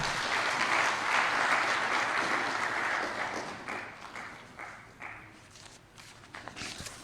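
Workshop audience on a national economic recovery plan breaks into applause, loud and dense at first, then thinning to scattered claps and some footsteps as it fades out.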